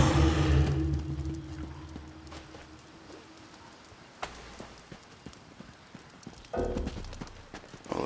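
Hooves clip-clop steadily from a horse in the Elder Scrolls Online video game, set in Elsweyr, with scattered sharper knocks and a louder burst near the end.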